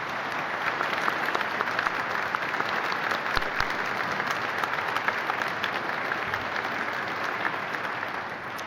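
A conference audience gathered on WWII and the June 6, 1944 landings bursts into sustained, dense applause, a full roomful of clapping that stays loud and even throughout.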